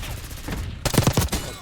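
Rapid bursts of gunfire ring out in a multiplayer shooter game during a Hardpoint match, a quick run of loud punchy shots over a busy background.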